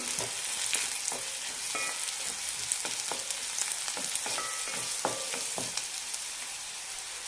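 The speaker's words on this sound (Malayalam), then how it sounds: "ഇനി ഇതിലേക്ക് മുളക് ഇടാം ചെറിയ രണ്ട് പീസ് പുളിയും നന്നായി വഴറ്റാം" Onions, dried red chillies and tamarind fry in a pan for garlic chutney, giving a dense, close sizzle with regular scraping stirs and occasional clinks against the pan throughout.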